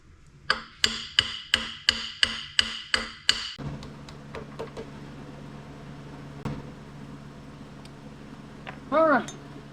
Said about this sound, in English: Let's get a brass hammer